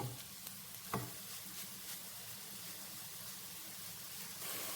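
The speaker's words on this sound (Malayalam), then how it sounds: "സബോള ഇട്ട് കൊടുത്തിട്ടുണ്ട്. നന്നായിട്ട് നമുക്ക് ഇളക്കി കൊടുക്കാം." Sliced onions sizzle softly in a pan while being stirred for a mutton curry. A quiet, steady frying hiss runs throughout, with an occasional faint tap from the spoon.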